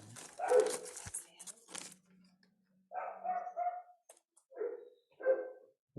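A couple of dogs bark in short separate bursts a little way off, with several barks spread across the moment, following a brief stretch of nearby speech and a low hum.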